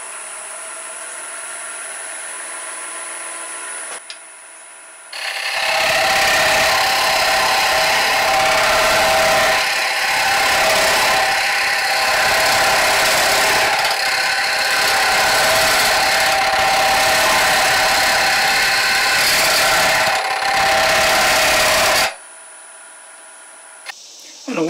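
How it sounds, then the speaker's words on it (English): Wood lathe spinning around 1,000 RPM while a hollowing tool cuts out the inside of a button-style Christmas ornament, a loud steady whirring grind for about seventeen seconds, framed by quieter motor hum before and after. "Hollow using my little hollowing tool. I'm going to just take some more material out to reduce the weight a bit more."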